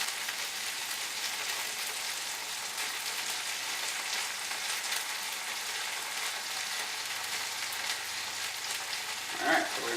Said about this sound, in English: Then we're going to throw in some onions and garlic and saute those as well.